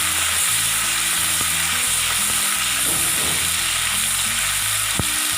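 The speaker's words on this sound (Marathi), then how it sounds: "कांदा तळल्यानंतर आता याच्यामध्ये आपण टोमॅटो घालूयात" Tomato frying with onions in a pan for garlic methi gives a steady loud sizzle, with a few clinks and scrapes of stirring and no talking.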